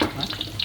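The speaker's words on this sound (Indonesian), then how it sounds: "Kemudian ini lanjutkan dengan digoreng." Food is frying in a pan in a home kitchen while noodles and vegetables are prepared, giving a close, steady sizzle and crackle with small spitting pops.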